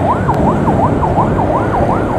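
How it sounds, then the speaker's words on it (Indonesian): An ambulance siren wails in a steady repeating up-and-down sweep as the vehicle travels in the fast lane of a road, loud and close over a constant rumble of traffic and engine noise. "Ambulansnya ada di jalur cepat."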